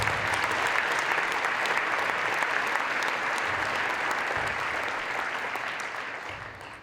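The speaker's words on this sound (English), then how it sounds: "Please give Leah one more round of applause." Sustained audience applause at a foundation fundraising breakfast, a dense, steady wash of clapping that holds evenly before tapering off slightly at the end.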